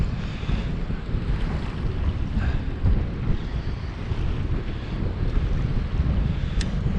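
Steady wind roars and buffets the microphone on an open fishing boat drifting on the water in late fall, a constant low rumble with faint wave wash and no voices.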